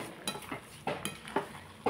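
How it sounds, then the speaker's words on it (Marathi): Spoon stirring sugar into carrot halwa cooking in ghee in a pan, a few scraping strokes and soft clinks against the pot, close up and alone. "ती आता साखरले आपण चांगलं मिक्स करलू"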